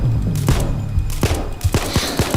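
Rapid gunfire in PayDay 2, a run of sharp close shots fired in uneven bursts over a low rumbling game background, with no talking.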